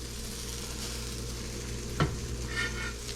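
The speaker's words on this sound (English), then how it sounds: "We preheat our skillet so we hear that lovely sizzle as soon as we add our potatoes." Potatoes sizzling in a preheated skillet, a steady, close frying hiss with a brief clatter as they are stirred midway.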